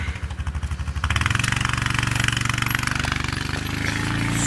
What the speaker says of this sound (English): So here goes my dad. On his ATV, plowing.